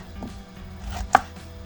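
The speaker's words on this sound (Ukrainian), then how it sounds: "тим часом нарізаю кабачок" A knife chops through zucchini on a board, one sharp, clear chop standing out against soft kitchen background noise.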